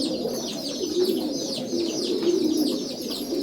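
Pigeons in a loft coo continuously and close by, layered throaty calls with soft chirps over a steady background murmur of the flock.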